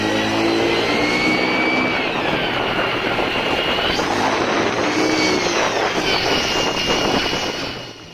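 A motorcycle with a stock exhaust accelerates hard from close by, its engine note rising steadily through the gears in a loud continuous whine that fades slightly at the end; no voices.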